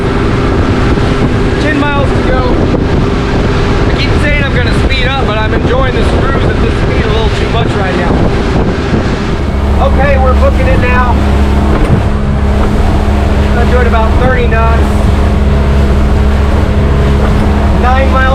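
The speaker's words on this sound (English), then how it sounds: "I can get used to this sailboat speed" A sailboat rolls through waves at about 8 to 9 knots on open water, with steady wind and water rush, a low engine-like drone growing stronger midway, and voices talking over it.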